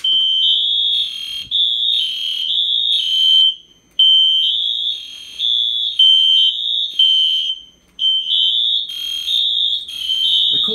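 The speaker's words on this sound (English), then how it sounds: "let's go ahead and pull the fire alarm." An EST Genesis fire alarm system sounds loudly and close, a piercing high electronic tone pulsing in a repeating temporal pattern with brief gaps.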